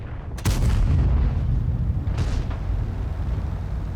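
Loud boom of a tier 8 medium tank's gun firing in World of Tanks, a sharp blast with a deep rumbling tail, followed about two seconds later by a second, softer crack over steady low engine rumble.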